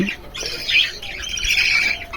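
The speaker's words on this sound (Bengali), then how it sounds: "বাজরিগার পাখির যে বাচ্চা দিয়েছে" Shrill, raspy squawks from budgerigar chicks, several overlapping calls close by, rising and falling over about two seconds.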